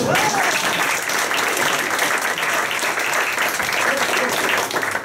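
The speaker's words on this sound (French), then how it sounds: "applaudissez Maria, super!" A comedy club audience applauds loudly and steadily after a stand-up sketch, a dense wash of clapping that fills the whole moment without pause.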